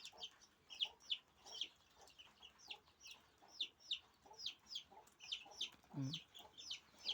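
Chickens cluck constantly in quick, overlapping bursts at close range while eating watermelon, with a lower squawk briefly standing out.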